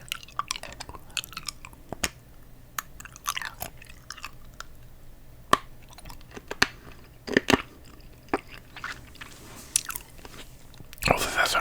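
Hard candy crunched and chewed right at the mouth, a series of sharp, loud bites and cracks scattered between softer chewing, with a dense burst of crunching at the very end.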